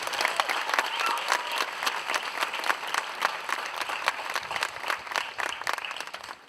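Applause from a college commencement crowd, the graduating class clapping for those who supported them; a moderately distant, steady patter of many hands that fades slightly at the end.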